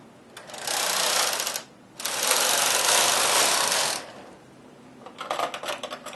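A knitting machine carriage sweeps across a row, giving two long, loud rushing whirrs with a brief pause between them, then a burst of lighter clicks and rattles at the end.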